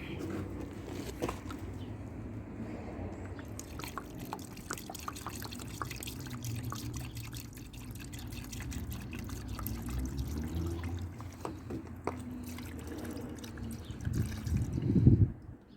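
Cleaning liquid is poured steadily into a removed diesel particulate filter from a Citroën C4, a continuous close trickle and drip that swells louder near the end, with no talk.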